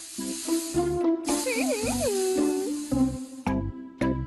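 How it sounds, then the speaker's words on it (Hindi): A hissing gadget spray in a Doraemon cartoon, heard as bursts of spray amid tonal music with rising and falling melodic sounds, short repeated hiss blasts at the start and end. "ठीक है, मेरे ऊपर स्प्रे कर दो।"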